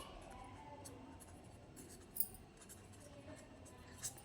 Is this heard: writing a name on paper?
yes